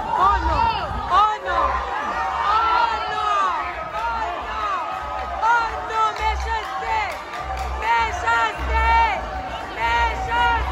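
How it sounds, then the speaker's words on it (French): Audience at a Miss & Mister pageant applauding a contestant, steady crowd noise with cheering, whoops and chatter running throughout, loud and continuous. "Mesdames et messieurs, applaudissez Mademoiselle Calix Lucienne"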